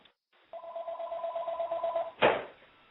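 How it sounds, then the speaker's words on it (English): A telephone rings with a steady two-tone electronic trill for about a second and a half, then cuts off into a short burst of noise. "No, I'm just going to let it ring, actually. It might be a caller."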